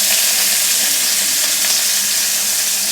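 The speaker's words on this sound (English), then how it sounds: "right here, and right after, just fry this for just literally for 1 minute" Garlic fries in a pan with a loud, steady, dense sizzle that holds without a break, close by, with no talk over it.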